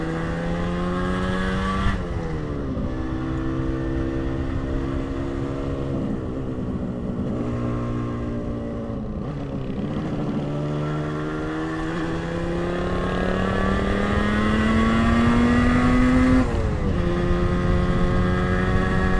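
A 1980 Moto Guzzi 250 TS motorcycle being ridden, its small engine droning steadily up close with gear changes and rising and falling revs as it pulls along the road.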